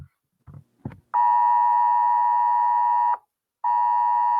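An electronic telephone tone comes through a cell phone: a loud, steady beep held for about two seconds, a short gap, then the tone again, preceded by a few faint knocks.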